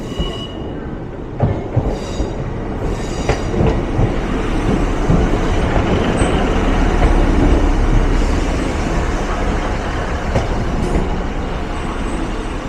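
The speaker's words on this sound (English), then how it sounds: "With that northern train heading towards York" A Northern passenger train rolls past heading toward York, a loud, sustained rumble with rail clatter and squealing wheels, building to its loudest midway and then easing, with no voices.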